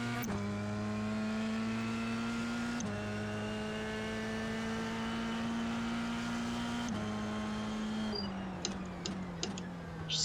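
An F3 race car in a sim racing game drones with a steady, faint engine tone that holds pitch and then shifts abruptly at a few points, like gear changes, with some light clicks near the end.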